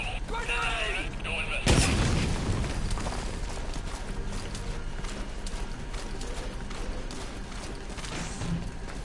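A grenade explodes in the stealth action game Metal Gear Solid V, a single sharp, loud burst that rumbles briefly before fading into steady background game noise and low voices.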